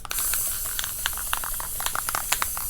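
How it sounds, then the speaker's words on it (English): A can of flat spray paint lightly mists a guide coat onto a cracked Chevy dashboard pad, giving a soft, continuous hiss with faint sputters, heard alone and fairly quiet. "I'm gonna use this can of spray paint"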